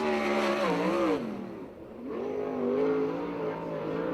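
USAC/CRA sprint cars roaring around a dirt track at Perris, California, loud wavering engine notes rising and falling as cars accelerate and pass, with a brief dip before the roar builds again.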